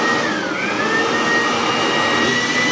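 A Makute 2-in-1 blower/vacuum runs steadily in vacuum mode, giving a loud, continuous close-up whine and rushing airflow with a high tonal pitch that shifts slightly, and no talking.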